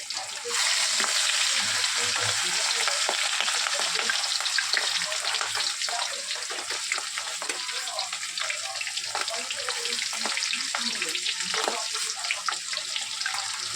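Seven pieces of fish frying in oil in a covered pan, a steady crackling sizzle with small pops, with occasional light speech nearby.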